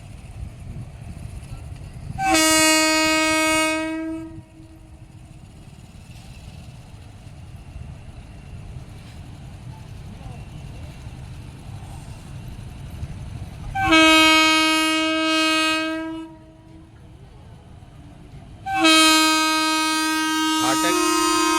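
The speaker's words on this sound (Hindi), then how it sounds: "अभी ट्रेन पास हो जाएगी पूरी" A passenger train passes a closed level crossing at Chakra Halt, sounding loud blaring horn blasts in three bursts over a rumbling, rattling run of wagons heard from close by.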